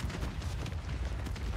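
Double mortar blasts in a Rebirth Resurgence battle royale match: a dense, low rumbling roar of overlapping explosions fills the short stretch at moderate level, with no clear separate impacts.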